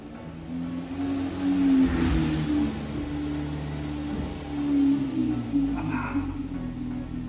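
A Chevrolet Spark trade car's engine hums low and close as it rolls into a garage, swelling briefly as the throttle rises and then settling, with faint voices in the background.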